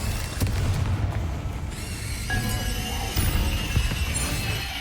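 The Confringo fire spell fires in the Hogwarts Legacy video game, giving loud booming blasts and fiery bursts over dense rumbling combat noise that runs for about five seconds.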